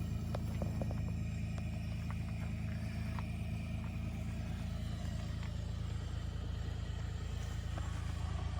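A 2022 Ford F-150 Pro Power engine idling, a steady low rumble with a constant throbbing hum running throughout, close and unchanging, with faint clicks on top.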